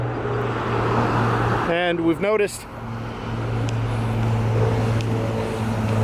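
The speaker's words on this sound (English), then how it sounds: "Don't know if you can hear it over the traffic or the airplane." Road traffic rumbles steadily beside a canal lock with an airplane droning overhead, a constant low roar and hum beneath someone speaking briefly mid-clip.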